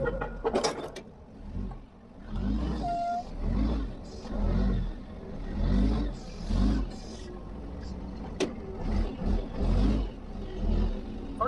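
A forklift engine revs again and again in rising and falling surges, with a few mechanical clanks and rattles between the revs.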